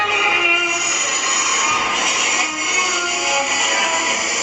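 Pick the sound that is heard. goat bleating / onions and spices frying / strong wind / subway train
subway train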